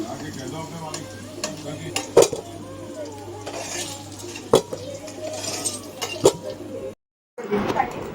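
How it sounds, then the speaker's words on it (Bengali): Potatoes frying in a pan and being lifted out, with a low sizzle under a few sharp metallic clinks of a utensil against the pan and a voice talking throughout, then a brief silence. "এই যে আলুগুলো ভেজে নামাচ্ছে"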